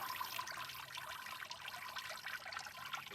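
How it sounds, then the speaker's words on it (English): Water trickles and dribbles steadily from wet recycled paper on a screen, a soft continuous splashing and dripping heard close and fairly quiet, with no talking. "And you can see all of the water falling out."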